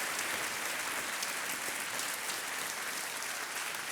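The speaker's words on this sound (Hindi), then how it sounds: "तालियां बजती रहें देवी और सज्जनों।" Game show audience gives sustained, even applause, a thick continuous roar of many hands clapping close and loud throughout.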